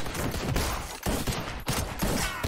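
Rapid gunfire crackles in dense, overlapping bursts in a film, an intense exchange of shots with brief pauses between volleys.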